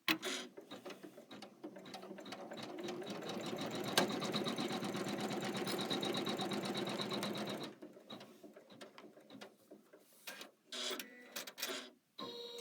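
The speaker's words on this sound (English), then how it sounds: "I've changed to red thread, and we're going to stitch the foam placement line." An embroidery sewing machine stitches a foam placement line in red thread for a zipper pouch, a fast steady mechanical whirring and clatter for several seconds, then stopping into quieter, intermittent clicks and short machine bursts.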